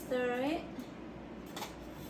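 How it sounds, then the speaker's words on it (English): Japanese beef curry stirred in a pot, with a short voice at the start followed by soft, scattered clinks and scrapes of a utensil against the pot. "Oh, alright, you guys want to stir it."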